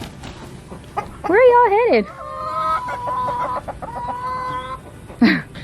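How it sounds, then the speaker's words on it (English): Backyard chickens cluck and squawk loudly as they run, with a few sharp calls and clucks near the microphone and a person speaking briefly over the flock. "Everyone's running. Go chickens!"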